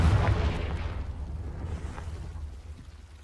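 A Confringo explosive spell goes off in Hogwarts Legacy with a heavy booming blast, loudest at the start, then rumbling and fading away over a few seconds.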